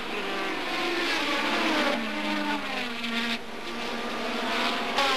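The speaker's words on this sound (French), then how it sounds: "Mansell s'élance en pole position avec à ses côtés Berger, suivi de Piquet et Prost." Formula 1 cars from the 1987 Grand Prix season, including Williams Honda and Ferrari racers, scream past at full throttle, a continuous loud high-pitched engine wail with shifting pitch as several cars pass.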